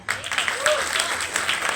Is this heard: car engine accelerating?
no